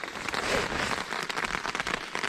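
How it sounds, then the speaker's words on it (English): Rain or water dropping from trees patters onto a tarp at a wet bivvy camp during bad-weather bicycle touring, a dense, irregular crackle of close drips with no talking. "I still don't know if it's rain or it's just dropping out the trees"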